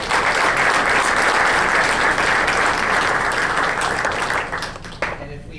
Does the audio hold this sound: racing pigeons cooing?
no